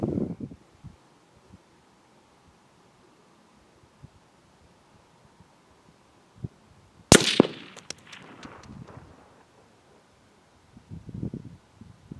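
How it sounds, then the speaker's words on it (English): A single sharp rifle crack from a 17 Winchester Super Mag firing a 20 grain VMAX bullet at a 10-pound clay block 200 yards away, outdoors, followed by a brief rolling echo and rustling. "We'll be shooting at this 10-pound block of clay at a distance of 200 yards with a 17 Winchester Super Mag using the 20 grain VMAX bullet."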